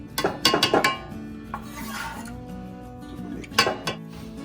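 A knife chops meat on a cutting board for a Reuben dip, giving a quick run of close, sharp knocks early on, then scattered softer taps and a few more firm strikes near the end.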